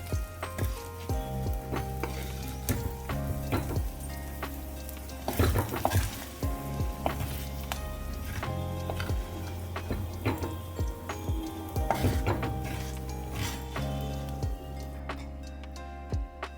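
Okra fries in hot oil for a Kerala Onam kichadi, with a continuous crackling sizzle broken by frequent clinks and scrapes of a spoon stirring against the pan.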